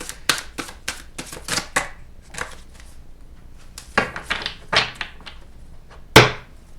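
Slippery tarot cards are shuffled in quick bursts of riffling and slapping, with short pauses between rounds and a final loud snap as the deck is squared.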